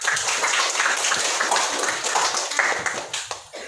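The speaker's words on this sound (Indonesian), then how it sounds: "Kita tepuk tangan dulu untuk kita semua." Students in a classroom applaud together after group presentations, a close, dense burst of clapping that holds steady before thinning out at the end.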